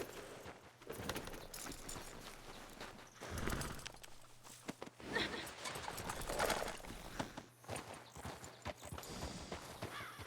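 Horse hooves clip-clop in a Western open-world game, a steady walking rhythm under a man's speech and faint background ambience, fairly quiet overall.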